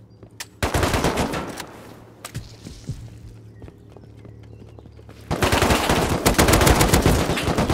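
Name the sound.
AK rifle gunfire in the video game Rust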